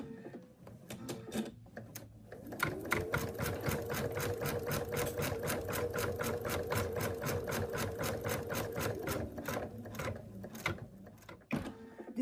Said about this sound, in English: Next it's going to sew a line down the middle which shows you where the center is